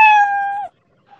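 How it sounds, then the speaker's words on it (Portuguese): A single clean meow from the Scratch programming cat sound effect, bright and tonal and lasting about two thirds of a second, then a brief faint echo of it near the end. "vai tocar o sonzinho miau e depois ele vai falar."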